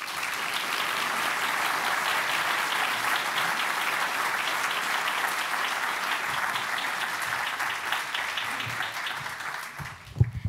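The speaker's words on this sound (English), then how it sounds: "before we just bring that applause right back up" A large audience at an evening talk applauds loudly and continuously in a dense, even wash of clapping that ends abruptly with a few thumps.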